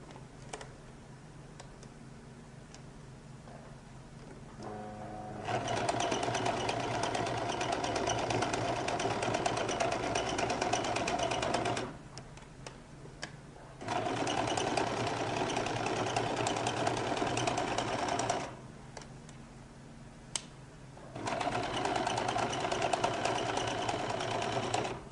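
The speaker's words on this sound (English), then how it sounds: "So I'm going to start by running a few gather stitches." A sewing machine running gather stitches on a lady's jacket, a steady close whirring hum in three long runs of several seconds each, separated by short quieter pauses.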